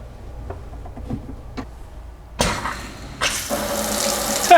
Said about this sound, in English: We have a faucet.